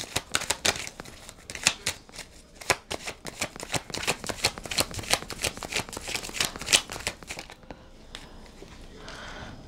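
Tarot cards being shuffled by hand in rapid, close, crisp riffling bursts that repeat steadily for several seconds before trailing off.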